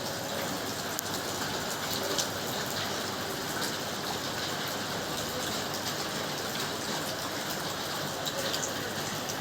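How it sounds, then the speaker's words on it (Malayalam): Steady, dense monsoon rain pours down continuously during flooding in Malappuram, a broad hissing wash with no pauses and no voices. "മഴ പെയ്തുകൊണ്ടേ ഇരിക്കുന്നുണ്ട് നിന്നിട്ടില്ല"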